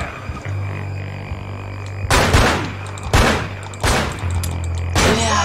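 Gunfire from the video game Manhunt rings out in four loud, sharp bursts a second or so apart. A steady low hum runs beneath them.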